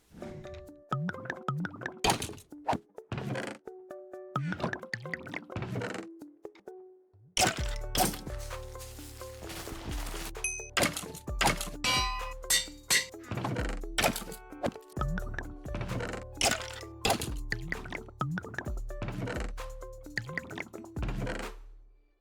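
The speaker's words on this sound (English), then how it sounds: "So I spent some time brewing some potions." Minecraft potion brewing in a Lifesteal server game plays out as a busy run of clicks, thunks, bubbling liquid drips and bottle-filling sounds, steady and fairly close throughout.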